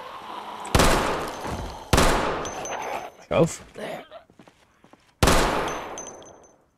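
Several loud, sharp gunshots in the video game Project Zomboid ring out at irregular intervals, each with a long echoing tail, and a brief voice in between.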